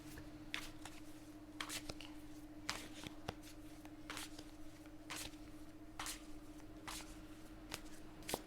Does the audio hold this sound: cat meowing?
no